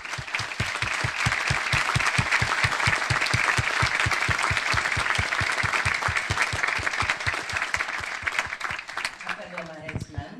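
An audience at a religious lecture bursts into sustained, rhythmic applause, a dense steady wave of clapping that carries on for about ten seconds before tapering off at the end.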